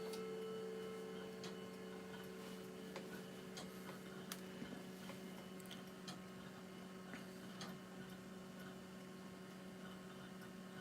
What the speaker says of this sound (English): I'm just going to turn the chimer off our clock.